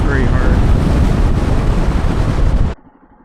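Wind roars past a rider on a 2025 Royal Enfield Himalayan motorcycle, a loud, steady rush buffeting the microphone that cuts off abruptly near the end into quiet.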